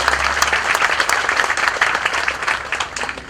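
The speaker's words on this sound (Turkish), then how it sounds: "Bir de bunlara alkışlayalım." An audience at a chamber meeting claps for the assembly chairman and the board, a crisp, busy round of many hands with distinct slaps poking through, steady and fairly close.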